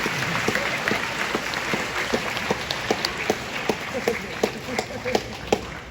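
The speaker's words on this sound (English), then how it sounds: "We should clap now." Applause from an audience, a steady wash of many hands clapping with sharper individual claps standing out, fairly close and sustained throughout.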